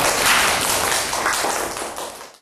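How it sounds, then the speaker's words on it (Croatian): Dense applause from a school audience, many hands clapping steadily and loudly for a couple of seconds before fading out. "aplauz"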